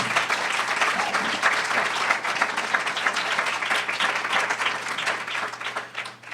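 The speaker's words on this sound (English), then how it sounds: "clap your hands, give it up for yourselves just for being here" A crowd claps and applauds steadily and fairly loudly, a dense continuous patter of hands with a faint low hum underneath.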